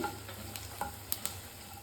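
Cumin seeds frying in hot oil for hurali kalu upittu, a horse gram upma, giving a soft, steady sizzle with a few light crackles and pops. No one speaks.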